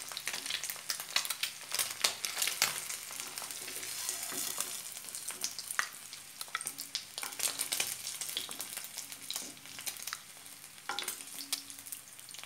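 Onion, garlic and ginger paste fries in hot oil with a steady, close crackling sizzle, broken by occasional stirring scrapes and pops, with no voices.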